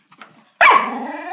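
A puppy gives a single sharp, loud bark close by after a brief stretch of quiet, with a soft rustle before it.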